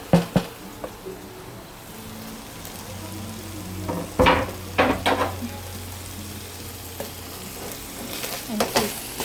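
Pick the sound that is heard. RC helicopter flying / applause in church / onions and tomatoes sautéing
onions and tomatoes sautéing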